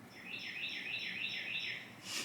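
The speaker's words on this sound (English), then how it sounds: "The birds are so loud." Birds sing outdoors in a bright, repeating warble that rises and falls in quick phrases, fairly close, with no talking.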